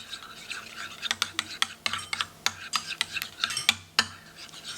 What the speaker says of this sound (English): So I'm going to just mix this around.